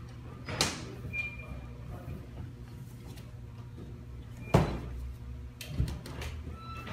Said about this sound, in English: Now he's opening the door so we can get in and make sure it's on the base straight